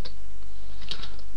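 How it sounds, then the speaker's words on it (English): Computer keyboard on a desktop PC as a terminal command is typed in Ubuntu, giving a few soft, close key taps over a steady background hum, with no voices. "So I typed in apt-cache"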